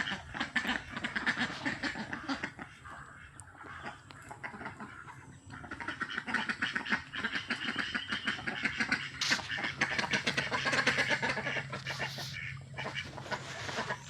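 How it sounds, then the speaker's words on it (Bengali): Ducks quack in a busy, continuous chorus nearby, overlapping calls rising and falling with other fowl mixed in. "সব হাঁস উপরে উঠে গেছে, উপরে উঠে এখন গা শুকাইতেছে"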